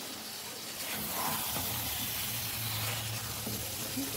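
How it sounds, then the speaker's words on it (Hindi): Potatoes and fenugreek leaves fry in a pan over a high flame, giving a steady low sizzle and hiss that holds on without a break at moderate loudness. "यहाँ पे मेरी जो फ्लेम है वो हाई है, अच्छे से हम इसे 10 मिनट के लिए भूनेंगे"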